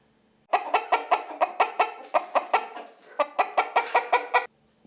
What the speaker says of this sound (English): This is hen.